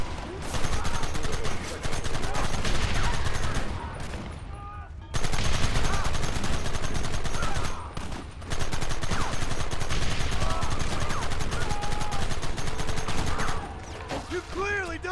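A Red Dead Redemption gunfight rages with dense, continuous volleys of rifle and machine gun fire, loud and close, broken by a few brief pauses, with shouted voices among the shots.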